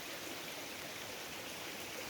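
A small stream flows beside coconut palms near rice paddies and plantations in a village, giving a steady, even rush of water that fills the whole stretch with no voices.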